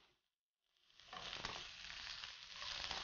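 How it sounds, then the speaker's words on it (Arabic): Carrots frying in olive oil with onion, a steady broadband sizzle rising after a brief silent start and holding loud and close, with no voices. "لا كاروت لازم تقلى بزيت الزيتون مع البصل، ونزيد معها ثوم"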